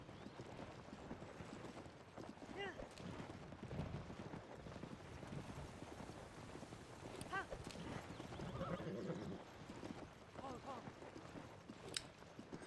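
A horse gallops with rhythmic hoofbeats in Zelda: Tears of the Kingdom, a continuous clip-clop with an occasional whinny, soft and steady under someone talking.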